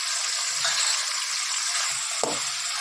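Mushrooms fry in a pan with onion and capsicum, giving a continuous bright hiss and sizzle with a few soft stirring knocks, close and steady, with no talking.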